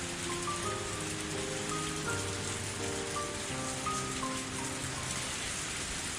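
Steady heavy rain in the video game Higurashi, a constant wash of loud, even downpour over quiet sustained background music tones, with no talking.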